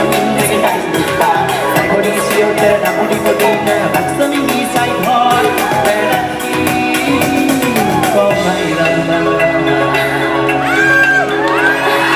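A crowd at a live show whoops, shouts and cheers loudly and continuously, with voices yelling over a dense wash of noise and a faint musical tone near the end.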